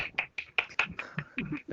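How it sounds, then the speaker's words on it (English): A scattered burst of light clapping comes through participants' open microphones on a video call, a handful of sharp irregular claps close to the mic and fairly quiet. "I can hear the clapping already, which means you've all unmuted your mics"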